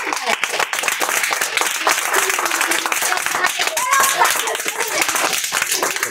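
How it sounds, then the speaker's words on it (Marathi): A room of schoolchildren applauds during a first-test results reading at a free government-school class, steady rapid clapping from many hands that carries on for about six seconds without a break. "टाळ्या वाजायच्या."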